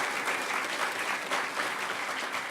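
A convention audience gives a dense, sustained round of applause at the HOPE Number Nine (2012) hacker conference closing ceremony, loud and steady throughout with no voices over it.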